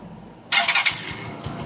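A Honda TMX Alpha motorcycle fitted with a 304 stainless steel exhaust pipe starts up with a sudden loud burst, then settles into a rough, pulsing idle close to the microphone.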